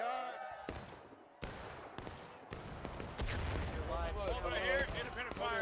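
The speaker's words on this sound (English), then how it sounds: "Just stop and shoot at them." Musket gunfire in the video game War of Rights crackles in a street battle, scattered sharp reports near and far building into a denser volley, with people talking over the shooting.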